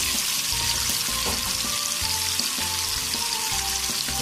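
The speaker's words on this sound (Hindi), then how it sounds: "देखें इस तरीके से चिकन जो है वो फ्राई होगा।" Chicken pieces frying in oil in a pan for biryani, a dense, loud, continuous sizzle and crackle throughout with no voices.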